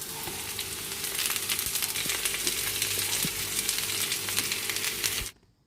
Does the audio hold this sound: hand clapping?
no